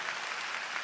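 A church audience at a Bible recitation contest claps in a steady, dense patter of applause, brief and evenly sustained, with no voice on top.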